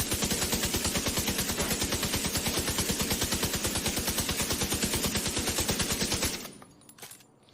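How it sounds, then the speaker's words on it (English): Sustained automatic gunfire in The Division 2 video game, a rapid, steady stream of loud shots lasting about six seconds before cutting off into near silence with faint handling sounds. "I'm going to fire away, and you'll see the vertical recoil, which is quite strong on this weapon"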